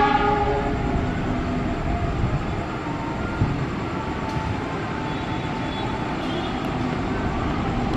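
CC 206 and CC 203 diesel locomotives sound their horns at an Indonesian railway station. A loud, steady mass of engine and rail noise fills all eight seconds with no pause, and no voices are heard.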